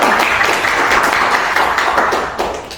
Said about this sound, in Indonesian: Tepuk tangan dulu ya untuk hadirin.